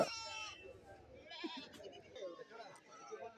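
Young goats bleat at a busy goat market in Kerala, where Canadian-breed male kids stand for sale; short bleats come and go among crowd chatter and nearby voices.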